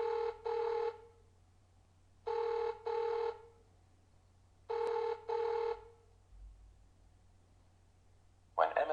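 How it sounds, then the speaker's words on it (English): A telephone rings in a 3G call setup as the called party's phone alerts, three double-burst rings spaced evenly, clear and fairly loud with quiet gaps between them. "Meanwhile, user B's phone begins to ring."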